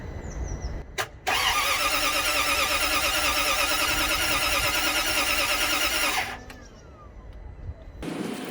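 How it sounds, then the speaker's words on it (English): Range Rover L322 4.4 V8 facelift with the fuel pump live, its starter cranking steadily for about five seconds without the engine catching, loud and close, followed by a quieter whir and another brief burst of cranking at the end. "We can always try and crank it with the fuel pump live."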